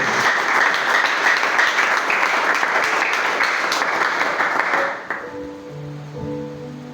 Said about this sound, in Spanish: Puede aplaudir fuertemente al Padre, mis hermanos.